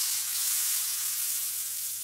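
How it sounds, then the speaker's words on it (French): Butter melting in a hot frying pan, a steady, even sizzle with a bright hiss that holds constant for a couple of seconds, close and unaccompanied. "Maintenant on va mettre le beurre, on va le faire fondre."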